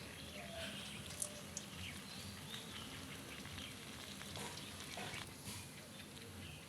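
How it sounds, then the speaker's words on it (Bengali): Coconut sweet mixture frying in a pan until reddish, a faint, steady sizzle with soft hiss and occasional light ticks, heard alone at low level. "লাল লাল করে ভেজে নেবেন।"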